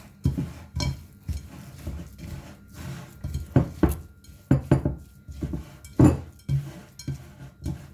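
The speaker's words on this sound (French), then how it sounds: "Il faut bien mélanger la farce." Peanut filling for briouates being mixed in a bowl, giving repeated soft clinks and scrapes of utensil against dish in an irregular rhythm, close and fairly loud, with no talking.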